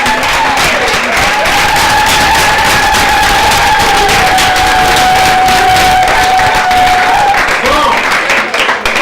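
At an academic opening ceremony, the audience applauds translation students, with loud, sustained clapping and some cheering. A steady whistle-like tone runs through the middle, and a voice speaks briefly at the start.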